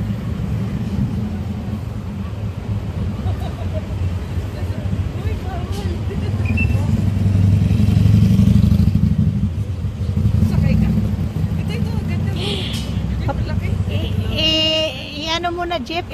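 Vehicle engines rumble nearby, a steady low drone that swells louder midway among parked motorcycles, with crowd chatter and voices talking over it.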